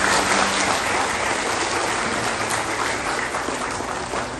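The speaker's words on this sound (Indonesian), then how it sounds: "saya minta tepuk tangan yang meriah untuk para ustadz." A crowd gives loud, sustained applause for Quran teachers at an Indonesian gathering, dense and continuous clapping that fills the room throughout.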